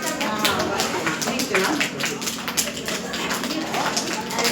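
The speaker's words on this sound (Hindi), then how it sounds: "राइट हैंड से ताली मारेंगे, राइट हैंड से ताली मारेंगे।" A group at a Yoga Day gathering in Ranchi claps in repeated right-hand-on-left-hand strikes, a steady run of sharp taps under continuous talking.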